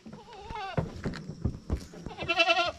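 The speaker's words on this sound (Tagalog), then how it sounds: "Yung mga kambing natin" Goats bleat repeatedly on a small farm, several wavering, nasal cries close by with a loud cluster near the end, over light background shuffling.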